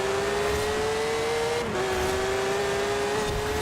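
A Porsche GT3 RS in Forza Horizon 4 runs at full throttle, a steady high engine whine holding near-constant pitch with a brief dip at a shift, heard alone.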